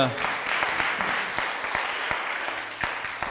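A church congregation applauds together in sustained, steady clapping, a dense wash of many hands that stays fairly loud throughout with no pauses.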